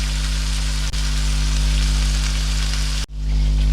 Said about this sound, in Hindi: इसको मैं ये फ्राई करके पहले मैं इसे अच्छी तरह ज़रा ये फ्राई कर लूँ।